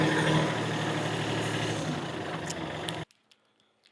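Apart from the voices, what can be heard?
tractor engine idling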